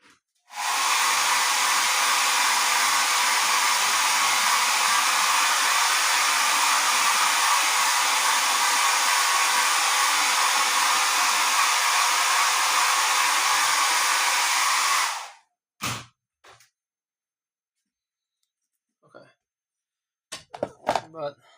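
Hair dryer blowing steadily and close on a set of three acrylic paintings for about fifteen seconds, then cutting off, followed by a few brief knocks and handling thumps.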